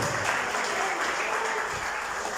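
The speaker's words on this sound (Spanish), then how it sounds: "fuerte ese aplauso" Church congregation applause fills the space, a dense, even wash of many hands clapping at once, sustained and fairly loud throughout.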